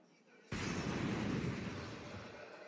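A flashbang grenade goes off in a Counter-Strike professional match. It is a sudden loud broadband bang, followed by a sustained, slowly fading wash of noise.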